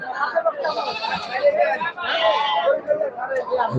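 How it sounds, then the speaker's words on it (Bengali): Goats bleating at a large Sunday goat market, several close, wavering bleats overlapping one another above a steady murmur of crowd chatter. "ছাগল আর ছাগল"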